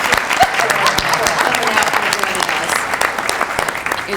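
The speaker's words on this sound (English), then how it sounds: "Let's give our panel a round of applause" A large audience applauds a panel at a New Jersey League of Municipalities conference session, dense steady clapping filling the room for several seconds while a voice speaks briefly over it.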